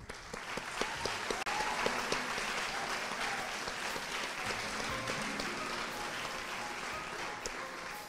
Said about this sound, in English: Another round of applause for them.